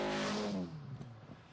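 A TVR Cerbera sports car with TVR's own engine roars loudly under hard acceleration, then the engine note drops and fades as the car pulls away.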